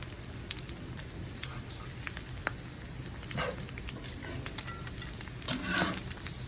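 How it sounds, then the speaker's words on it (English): Sliced onion and pork ribs fry in a pan with a steady, moderate sizzle and occasional stirring scrapes, one slightly louder burst near the end. "Let it fry with the meat a little bit before we add the sauce."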